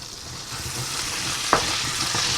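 Six fresh garlic cloves frying alongside chicken bites in garlic butter, a steady close sizzle with a single clack of a stirring utensil partway through and no voices.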